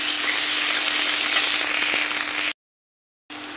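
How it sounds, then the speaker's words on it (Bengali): Masala spices fry in a pan after onions with a loud, even sizzle that cuts off abruptly into silence before resuming briefly. "পেঁয়াজটা ভাজি হয়ে গেলে এবার মশলাটা আমি ভাজি করে নেব।"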